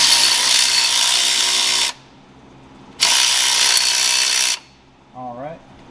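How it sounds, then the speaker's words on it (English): A power tool runs down an 8mm Allen head bolt during a TorqStorm supercharger install on a 4th gen RAM, two loud, steady whirring bursts of about two seconds each separated by a pause, followed by a brief voice. "we're about to tighten up the first lower bolt, guys, and it is an 8mm Allen head"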